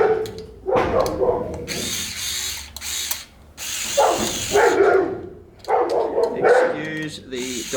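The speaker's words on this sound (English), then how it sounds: "Excuse the dogs barking." Dogs barking in repeated bursts near a garage workshop, mixed with mechanical tool noise.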